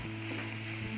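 Fish mixture frying in hot oil for savory pastries, a steady soft sizzle with faint crackle holding evenly throughout, close and quiet with no voices.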